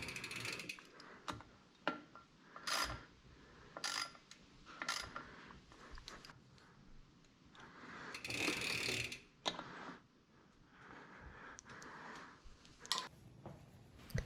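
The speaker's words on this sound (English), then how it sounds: "Now make sure that you tighten your pinch bolts back up evenly." A ratchet tightens the crank pinch bolts on a Specialized Fuse bicycle with a Stout Pro crank, producing scattered quiet clicks and short ratcheting bursts with gaps between them.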